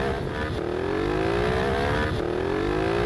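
Honda Transalp motorcycle in an older 2018 video game, its engine droning loud and steady with two rising revs climbing in pitch, no talk over it.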